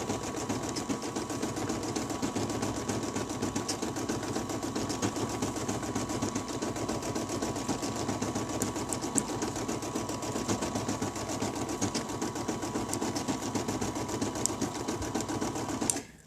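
An embroidery machine stitches a Betsy Ross flag design onto a keyfob, likely in polyester or rayon thread, with a steady, fast mechanical chatter that runs loud and unbroken throughout, close by and with no talking.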